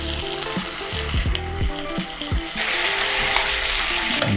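Teriyaki chicken grills in a pan with a constant close sizzle, broken by several sharp utensil knocks and scrapes, and the frying noise swells brighter toward the end.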